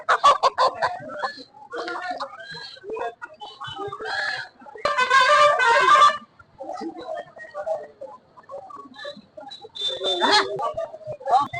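Chickens at a busy poultry market in Pakuahat, Malda district: repeated close clucking and squawking calls in bursts, with a louder crowing-like outburst midway and again near the end, and people talking in the background.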